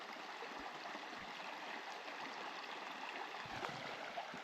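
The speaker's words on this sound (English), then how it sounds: "I'm standing here by the river" A river flows steadily past a bank scattered with sticks and small dams, giving a constant close rushing wash with occasional soft gurgles and no voices.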